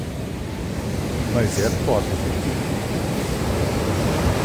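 Surf on the beach at Praia do Buraco makes a constant close roar of breaking waves and wind, while a person briefly speaks over it.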